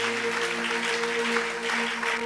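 A church congregation claps steadily for a couple of seconds, a dense wash of many hands with a sustained tone or hum running underneath.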